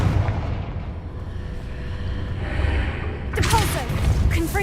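Confringo, the fiery explosive spell in Hogwarts Legacy, cast in the game: a low rumble builds, then a bright crackling blast bursts out near the end.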